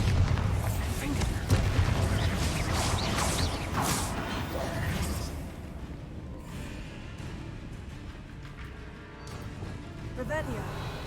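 A Bombarda blasting spell is cast in the video game Hogwarts Legacy, giving a loud, heavy explosive boom with crashing, rumbling debris that fades into a quieter mechanical tail, under a voice and dramatic game music.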